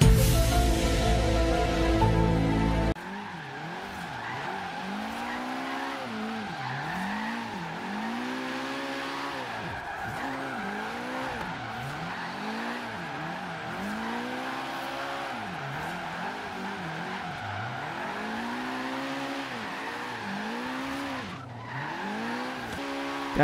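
Nissan 240SX cars drifting in Forza Horizon 3, engine note rising and falling in repeated sweeping swells with steady tire squeal underneath, a sharp louder burst at the start, continuous and close throughout.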